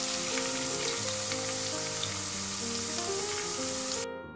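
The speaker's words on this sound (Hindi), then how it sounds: "देखिए हमने इसमें प्याज ऐड कर दिए हैं। इसको अच्छे से हमने जो है हल्का ब्राउन करना है" Onions for potato curry fry in a pan with a loud, dense, continuous sizzle close by, cutting off abruptly at the end.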